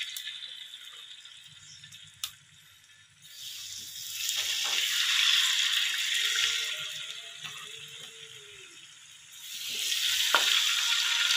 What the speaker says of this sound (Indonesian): Oke, siap kita goreng ya.